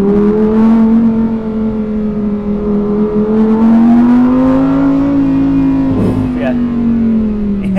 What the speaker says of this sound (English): more engine noise.